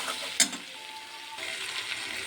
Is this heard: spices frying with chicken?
yes